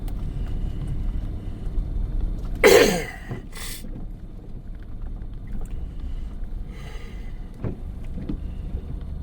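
One short, harsh cough breaks out over a steady engine rumble inside a vehicle on a road at altitude, followed by a fainter second burst.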